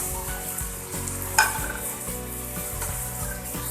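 Spices drop into tinda frying in a pan, giving a steady close sizzle with scraping stirs and a sharp clink of spoon against metal partway through.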